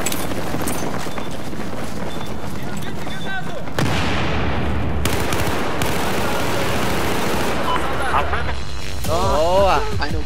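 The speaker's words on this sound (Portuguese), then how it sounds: "Saiu um tiro da minha arma" Dense bursts of video game gunfire and booms crash through the mix, with loud battle noise and chatter layered over a steady background rumble.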